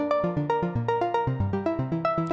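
Bright, unfiltered synth pluck arpeggio built in FL Studio's Sytrus, playing a fast stepping pattern of short, sharp harmonic-rich notes that rise and fall in pitch, loud and alone with no voice.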